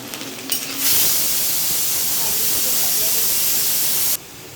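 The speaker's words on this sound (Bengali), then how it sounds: "তেলটা গরম হয়ে গেছে, এবার প্রথমে আলুগুলোকে ছেড়ে দিচ্ছি" A sudden burst of loud, steady hissing sizzle as potatoes hit hot oil, holding for a few seconds before cutting off.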